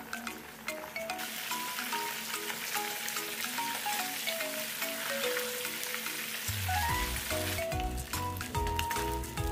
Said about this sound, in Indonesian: kita goreng ikannya sampai benar-benar garing